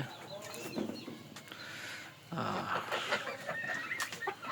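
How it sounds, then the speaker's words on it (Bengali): Fayoumi hens about five and a half months old, already laying, cluck close by. The calls come in repeated bursts and grow louder and busier partway through, with rustling in the background. "এটা অলরেডি ডিম দিচ্ছে, ডাকাডাকি শুরু করছে"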